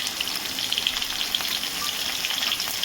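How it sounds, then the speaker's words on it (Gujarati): Mustard seeds and cumin sizzling and popping in hot oil for a Gujarati tempering, a steady close frying crackle with scattered sharp little pops and no talk. "એમાં આપણે રાઈ જીરુંનો વઘાર કરીશું"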